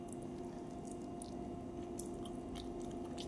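A person eats a homemade sugar-free sweet, with soft, faint chewing and squishy bites close by against a quiet background hiss. No one speaks.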